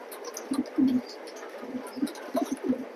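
Several pigeons coo close by in repeated low, throaty bursts that overlap one another, with occasional faint chirps in the background.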